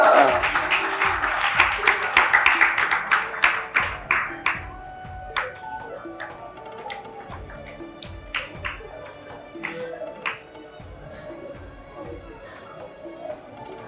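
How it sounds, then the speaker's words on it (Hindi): People applaud at a gurukul opening ceremony at the Radha Raas Bihari temple in a short burst that quickly thins into scattered claps, with bright ringing taps and a low background murmur. "तालियां बजाएं।"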